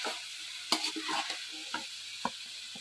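Vegetables are stir-fried on a high flame, with quick spatula scrapes and tosses over a faint sizzle, close and sparse, with no talking.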